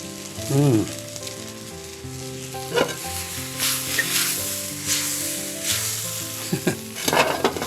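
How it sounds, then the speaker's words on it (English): Asparagus sizzles and fries in a pan, a steady hiss with scrapes of stirring, while a melodic background tune plays throughout and no one speaks. "cook the asparagus a little bit more, not much more"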